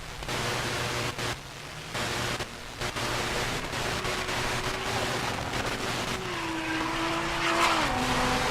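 Race cars at a drag-racing event launch and accelerate, a Lexus IS 300 with a 2JZ engine and a GTO, with loud, continuous engine roar and rising tones against a broad, noisy background.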